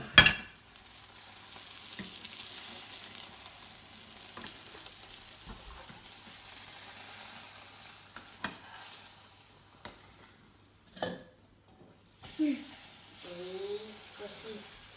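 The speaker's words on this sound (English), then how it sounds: "It's going to sizzle when it hits there." Steady, quiet sizzling of eggy bread frying in a pan, a continuous crackly hiss, with a few clinks and brief voices near the end.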